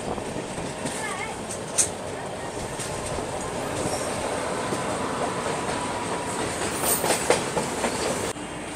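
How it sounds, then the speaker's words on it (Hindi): A freight train hauled by a WAG 9 electric locomotive passes on a parallel track, heard from aboard a moving passenger train with steady clickety-clack and rumble, a few sharp squeals and clanks. "और ये लो वहाँ से एक और मालगाड़ी आ गई है WAG 9 लोकोमोटिव के साथ।"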